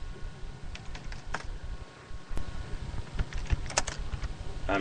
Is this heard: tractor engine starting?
no